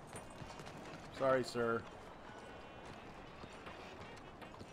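Horse hooves clip-clopping in Red Dead Redemption 2 sound as a soft, steady patter under the game's ambience, while someone speaks briefly over it.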